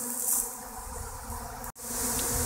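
A swarm of bees buzzes loudly and close around a flower pot, a dense, continuous droning hum that briefly cuts out near the end before resuming, with no talk.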